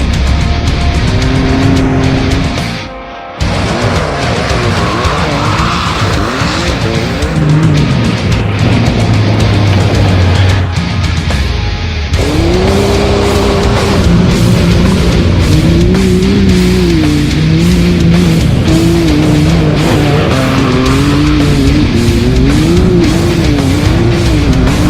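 Can-Am Maverick X3 Turbo side-by-side driven hard, the engine loud and close, revving up and down in repeated surges with a brief cut near the start and rising pitch through gear changes.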